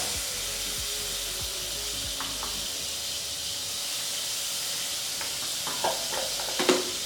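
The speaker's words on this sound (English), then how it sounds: "I'm just gonna put a knob of butter in there. Oh, too hot." A knob of butter hits an overly hot pan and sizzles with a steady, close hiss throughout, and a few light clatters of cookware come near the end.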